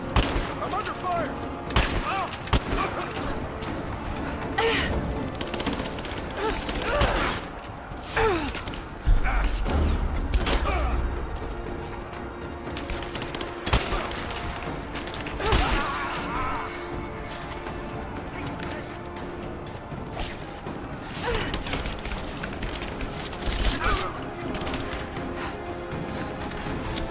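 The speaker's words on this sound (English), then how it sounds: "Under fire! I'm under fire!" Scattered gunfire and crashing impacts from Rise of the Tomb Raider combat, a dense, busy mix of shots, mechanical clatter and debris running throughout, with shouted voices over the fighting.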